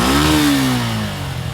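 A motorcycle engine revs up close and loud, a rising then sagging mechanical drone that fades slightly toward the end.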